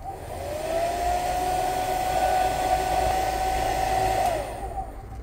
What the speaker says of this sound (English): after about 2 minutes of heat using our hairdryer at 80 degrees Celsius